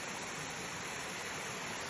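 A forest stream on Mangalasseri hill in Wayanad pours in a continuous broadband rush, steady and fairly close, with no voices over the flowing water.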